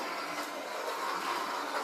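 A steady, broad rumble of a train rolling by at a distance, continuous and moderately loud with no voices.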